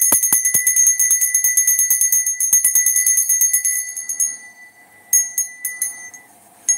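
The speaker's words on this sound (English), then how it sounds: "I got my own Liberty Bell." A small Liberty Bell replica from Philadelphia, fitted with a different clapper, rings loud and close in a rapid, steady peal of bright metallic strikes. The ringing stops briefly and then resumes in short bursts.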